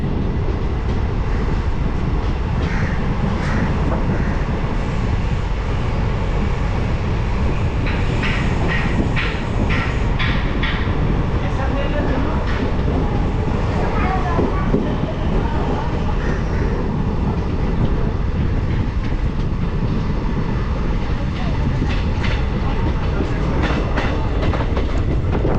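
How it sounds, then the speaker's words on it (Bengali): A moving Holi special passenger train from Kolkata to Darjeeling, just departed from Barsoi, rumbles loudly and constantly. Rhythmic clickety-clack wheel beats come and go over the heavy noise inside the carriage. "আর এই বারসই থেকে ছেড়ে দিল ট্রেন আমাদের।"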